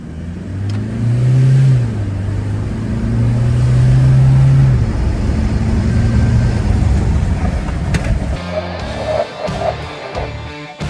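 A Toyota Hilux on Michelin tyres accelerates to 80 km/h on an off-road test course, its engine droning loudly and steadily as it climbs, then giving way to rougher bumping and clattering noises near the end.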